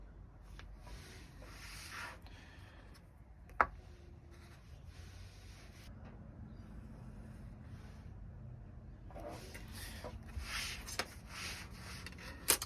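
A pen moves across graph paper and card while a leathercraft wallet pattern is drawn, making soft, close scratching and rubbing strokes with a couple of sharp taps from setting dots.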